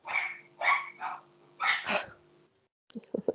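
A nearby dog barks repeatedly in a quick run of loud, sharp barks, then goes quiet before a few softer sounds close the moment, outdoors during an exploration of Stonehenge.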